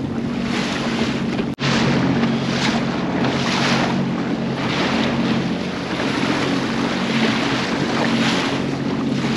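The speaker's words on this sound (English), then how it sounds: "God, it's choppy out here." Choppy water slaps and churns around a boat out at Nanticoke as strong wind buffets the microphone, a steady loud roar broken by one brief dropout early on.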